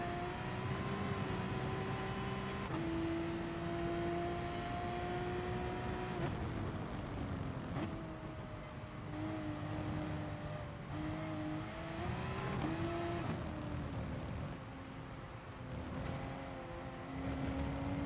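A race car engine in the GT Sport racing game on a wet track, droning steadily and rising in pitch as it accelerates, with a few gear-change dips, loud and close throughout with no talk.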